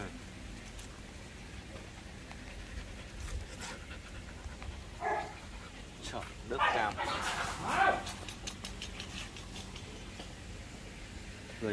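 A Vietnamese H'mong bobtail puppy pants in short quick bursts near the microphone, with faint soft breathing between and people talking quietly nearby.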